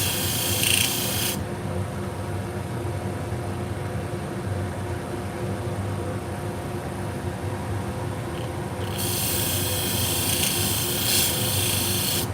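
A small sharpening stone rubs against the jaws of an Olsen-Hegar surgical needle holder in a steady, continuous rasp, close and fairly loud, with a brief brighter scraping stretch at the start and again near the end.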